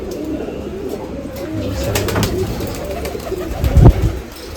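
Pigeons cooing close by at a pigeon festival in Nashik, India, their low rumbling calls layered together over an outdoor background, growing louder near the end.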